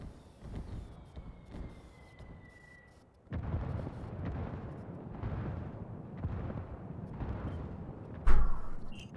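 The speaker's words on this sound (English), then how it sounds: "We got a lot of bombardment in the beginning here" Artillery shells pound the map in Ghost War, the online PvP mode of a tactical shooter, with deep booming explosions rumbling continuously after a quieter start, then one loud, close blast near the end.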